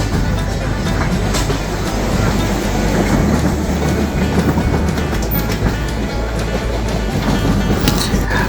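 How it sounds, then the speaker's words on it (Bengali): Chitra Express passenger train running on its tracks between Bheramara and Dhaka, a steady loud rumble with rhythmic wheel clatter throughout, heard from on board with no talk. "ট্রেন ছুটে চলেছে তার আপন গতিতে"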